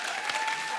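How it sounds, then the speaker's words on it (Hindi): A studio audience at a comedy show breaks into brief, dense applause, a short, steady burst of many hands clapping. "जोरदार तालियां हो जाए"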